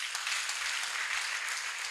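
An audience at a church gathering claps in a dense, sustained round of applause, steady and fairly close, with no speech over it.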